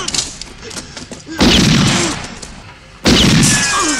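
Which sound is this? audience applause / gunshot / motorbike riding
gunshot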